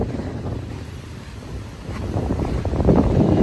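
Sea at Dolomite Beach on Manila Bay, a low, rolling wash of water and surf with heavy wind buffeting the microphone, swelling louder toward the end.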